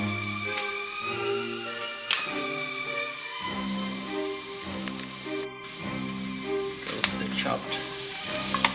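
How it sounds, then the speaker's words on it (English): Mushrooms frying with golden brown onions in a pan for keto beef stroganoff, a steady close sizzle with crackling pops and occasional stirring scrapes throughout. "once you see the onions are slightly golden brown, we add the mushroom in there."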